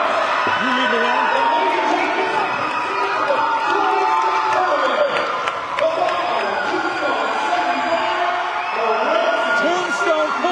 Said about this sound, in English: Tombstone pulls out the win. Look at the crowd.